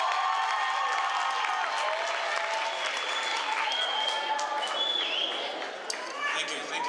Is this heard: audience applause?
yes